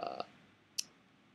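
A computer mouse gives a sharp right-click, a single short tick near the end after a brief faint keyboard-like clatter at the start, quiet and close.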